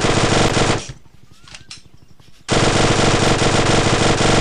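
An Uzi submachine gun in a video game fires a loud, dense rapid burst, pauses for about a second and a half with faint rattling and clinks, then resumes sustained automatic fire to the end.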